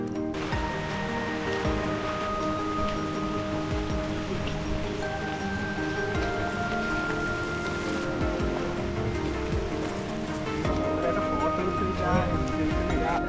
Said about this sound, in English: Just as we are nearing the peak, the rain starts again and the wind picks up.